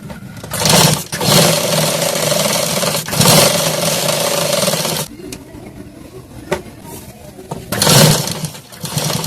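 A sewing machine runs in several bursts while stitching the edge of a katori blouse, whirring loudly for a couple of seconds at a time with short pauses and quieter gaps between runs.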